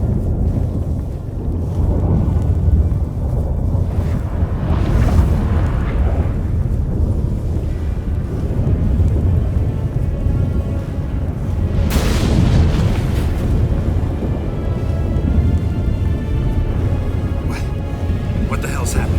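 A storm in The Witcher 3 brings deep rolling thunder with low rumbling booms and a couple of louder crashes, while voices speak over it.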